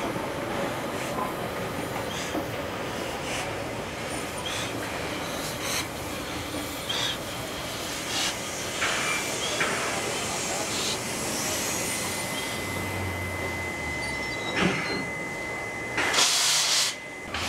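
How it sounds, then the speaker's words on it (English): Two locomotives shunting carriages onto a refuge track at Moss Vale, a long steady hiss of steam and rail noise with occasional clanks and bursts, a louder release near the end, heard at moderate distance without talk. "the two locomotives begin shunting operations by pushing the carriages onto the refuge track"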